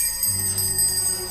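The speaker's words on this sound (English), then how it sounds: "soon it rang out loudly, and so did every bell in the house" Every bell in a house rings out loudly at once, bright sustained chiming tones layered over a low hum, continuous for the whole moment.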